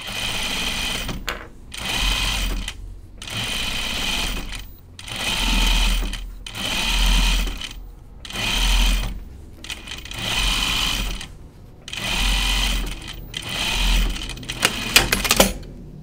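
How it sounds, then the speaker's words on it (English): A sewing machine stitches a jacket sleeve from the inside, running in repeated bursts of rapid mechanical whirring with brief stops between them, close and steady. "I'm going to stitch the sleeve from the inside"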